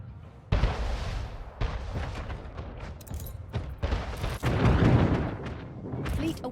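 Ship guns fire in a naval battle in Anno 1800, a series of heavy booming blasts with rumbling tails, loud and close, repeating irregularly over several seconds.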